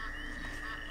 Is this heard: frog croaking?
yes